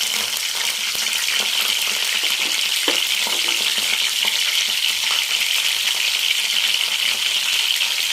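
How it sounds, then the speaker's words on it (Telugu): Fish roe frying in a pan, a dense, steady sizzle and crackle close up that holds evenly throughout, with a faint tap from a utensil partway through and no talk. "అది నేను ఇప్పుడు ఫ్రై చేయబోతున్నాను ఫ్రెండ్స్"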